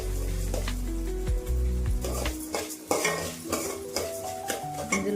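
Coriander seeds frying over a low flame for a garlic chili powder, stirred with a spoon that scrapes and clinks against the pan amid a soft, continuous sizzle.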